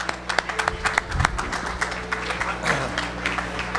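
Scattered applause from a conference audience, with sharp individual claps standing out over a low murmur of crowd noise, fairly near and moderately loud throughout.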